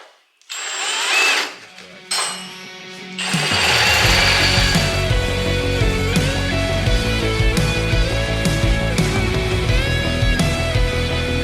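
Power tool enlarging a drilled hole in the frame of a Wheel Horse mud mower, a couple of short revs and then a long, loud, continuous grinding whir close by.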